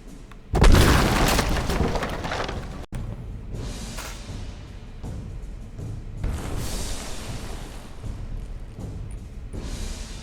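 Heavy cannon fire and explosions in an American Civil War ironclad naval strategy game, a loud booming blast near the start followed by a sharp cut, then repeated softer rumbling impacts and another swell toward the end.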